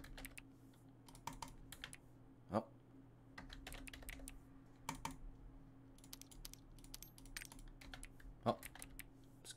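Faint computer keyboard typing in bursts of quick keystrokes, with a few louder isolated clicks, under low background hum and occasional speech.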